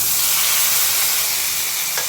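Sliced banana stem frying with onions in a pan, a dense, even, close sizzle that holds steady throughout with a faint scrape near the end.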